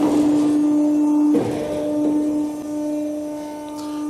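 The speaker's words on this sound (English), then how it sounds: "So machine doing all bend steps again." An NC plate roller machine runs through its bending steps with a steady, loud mechanical hum and droning motor tones that shift slightly partway through, with no voices.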